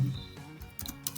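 Soft, quick clicks of typing on a computer keyboard, a few scattered keystrokes at low volume with brief gaps between them, close by and without talking.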